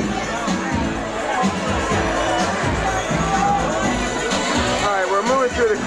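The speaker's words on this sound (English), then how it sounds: "we're moving through the crowd" Dense crowd babble fills a nightclub in Cherry Hill, New Jersey, in 1995, with continuous overlapping chatter and occasional louder shouts and cheers close by.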